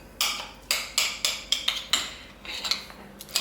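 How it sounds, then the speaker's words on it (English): A spoon clinks and scrapes against a bowl while cream cheese is mixed with lemon juice, salt and pepper, a run of sharp, close taps in an irregular rhythm with no talk. "And we mix together."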